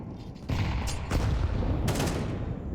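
Rapid CZ pistol gunfire in Counter-Strike during a Limitless vs. LAG match, a few sharp bursts cracking over a dense, continuous game din with no voices.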